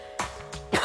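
A woman with a sensitive, irritated throat coughs and clears her throat in three harsh bursts at a steady rhythm, close and fairly loud, with no talk.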